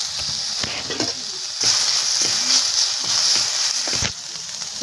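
Drumstick leaves (moringa) frying in a pan for a curry, a steady close sizzle with intermittent scraping and clinking of a spoon stirring, no talking.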